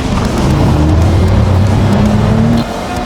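A 2021 Dodge Charger V6 with a rough-running engine revs loudly close by, holding a steady raised roar for a couple of seconds before dropping back to a low idle.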